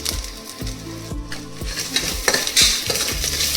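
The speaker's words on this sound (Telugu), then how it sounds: "ఇప్పుడు ఒకసారి అవి పచ్చివాసన పోయేంత వరకు ఫ్రై చేసుకోవాలి" Ginger-garlic paste with turmeric fries in oil for South Indian tomato rice, with a steady sizzle under rhythmic metal spatula scrapes and clinks against the pan, loud and close with no voices.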